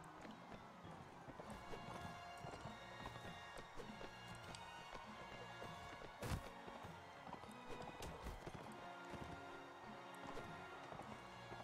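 Hooves clatter in a fast, continuous rhythm in the video game Mount and Blade: Warband, with busy battle action sounds layered throughout and one sharp burst midway.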